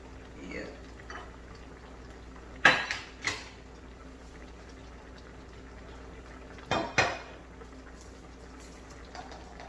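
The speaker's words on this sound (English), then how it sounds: "the noise that you hear me making in the background is just me preparing a bowl for myself to eat out of." Dishes and a bowl clatter in a kitchen as a meal of crawfish, oxtail, potatoes and carrots is served, with two sharp clusters of knocks rising over a low steady background hum.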